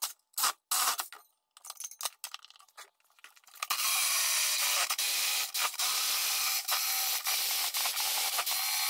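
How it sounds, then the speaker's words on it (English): Harsh, steady scraping of a metal file smoothing a freshly jigsaw-cut edge, continuous broadband rasping after a few scattered clinks and knocks at the start. "Probably take a file to these edges and clean that up a little bit"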